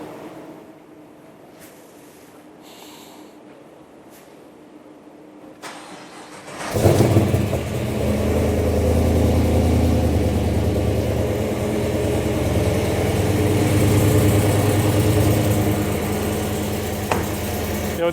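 An LS V8 swapped into a Toyota Hilux cranks and fires, settling into a deep, loud, rumbling idle with a few blips of revving, following a quiet stretch of faint background noise.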